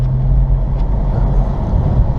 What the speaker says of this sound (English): live example of the experience of driving the 300